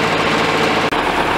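A large air compressor runs steadily while testing drilling pipes on a GBU 60L drilling rig, giving a loud, continuous mechanical drone with a brief dropout near the end.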